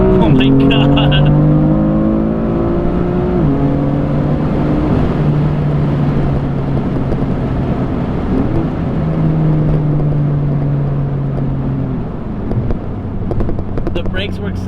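BMW M4 race car pulling hard in a second-gear roll from about 40, its engine note climbing through rising harmonics with a quick shift midway, loud and close from inside the cabin, with a voice speaking over it.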